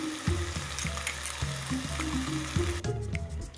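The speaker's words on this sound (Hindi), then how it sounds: "ये मसाले डालकर हमें इसे भूनना है।" Spices for chhole fry and sizzle in a pan, a steady crackling hiss close by with intermittent stirring scrapes and no talking over it.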